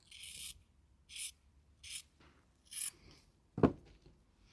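Scissors snip a small strip of fabric for a collage card, four or five short dry cuts at an irregular pace ending with a sharper clack, close and quiet with no talk.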